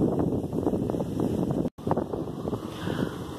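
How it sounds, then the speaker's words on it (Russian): Strong gusty, cold piercing wind buffets the microphone in a steady roar, with a brief dropout partway through; no clear speech. "Ветер пронизывающий, холодный."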